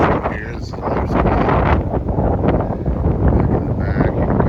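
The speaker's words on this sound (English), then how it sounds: "as you can see, it's a little windy" Strong gusts buffet the microphone outdoors on a rural property near Lamont, Oklahoma, a loud continuous low rumble and roar, with a voice faintly speaking beneath it.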